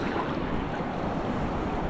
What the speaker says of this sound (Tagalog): Ay, laki ng alon dito